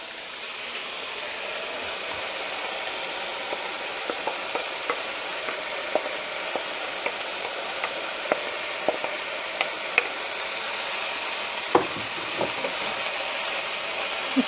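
Italian sausage, peppers and onions sizzle in a pan with a steady close hiss, broken by sharp intermittent clicks and taps of a utensil against the pan, no speech.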